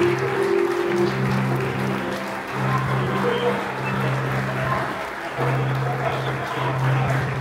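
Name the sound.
congregation applauding in church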